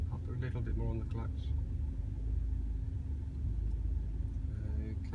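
A car engine rumbles low and steady during a driving lesson, and people talk over it throughout.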